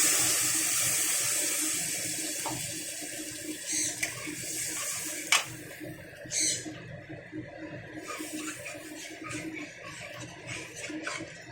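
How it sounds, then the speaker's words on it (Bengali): Water pours steadily into a pan of Bhasa-style fish curry. The flow is a constant rushing splash for several seconds, with a few faint knocks and clinks mixed in. "আমি দিয়ে দেবো জল।"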